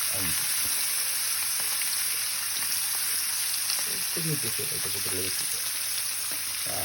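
Pieces of masala-coated fish frying in a pan give a dense, steady sizzle close up, continuous throughout, with a faint voice briefly audible underneath.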